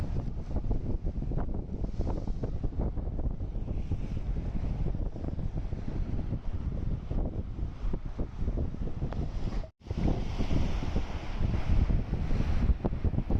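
Strong sea wind buffets a microphone on a fishing outing, a continuous loud rumbling roar with gusts and a brief dropout, with water washing beneath it and no voices.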